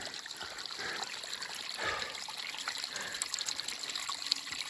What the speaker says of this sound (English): Oh, I'm grateful for that water.